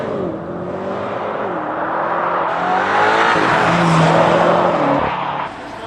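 BMW M5 G90 hybrid sedan accelerating hard, a loud, steady engine roar rising in pitch with harmonic sweeps, sustained for several seconds before easing off at the end.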